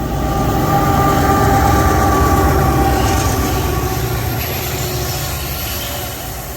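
A CSX or Norfolk Southern freight train rolls through a Chattanooga rail yard, its steady, loud rumble and wheel noise filling the whole stretch and easing slightly toward the end.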